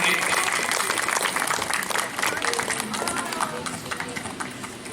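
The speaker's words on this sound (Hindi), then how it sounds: "एक बार सभी जोरदार से तालियों से उनका सम्मान करेंगे, स्वागत करेंगे" Audience at a religious satsang gathering clapping to welcome a speaker onto the stage, a dense, steady round of applause that tapers slightly, with voices underneath.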